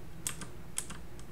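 Keys on a computer keyboard are pressed to control a Python program, several light, separate clicks spread across a quiet moment with no talking.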